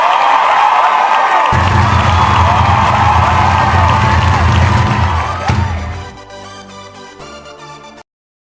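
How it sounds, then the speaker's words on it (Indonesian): A crowd in the Sakura School Simulator video game cheers and claps loudly for the red team, a steady, dense roar of applause and whoops that fades into sparse, choppy bits near the end. "Berikan aplaus yang meriah untuk tim merah."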